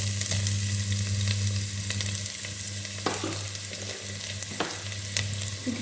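Red and white onions fry in a pan with a continuous close sizzle, punctuated by a few sharp stirring scrapes and clinks, with a low steady hum beneath.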